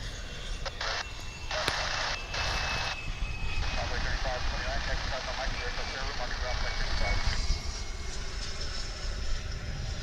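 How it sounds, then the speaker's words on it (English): A Frontier Airlines Airbus A320 at DFW airport, its engines a distant steady rumble and whine under a person talking, with a faint rising tone through the middle. "That Frontier aircraft you are seeing there on its way to Las Vegas, an A320."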